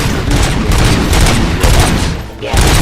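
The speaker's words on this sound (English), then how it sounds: "Gunshots? What's going on?" Gunfire in the RoboCop video game, a loud dense fusillade of rapid shots and booms that continues almost without pause across the short span.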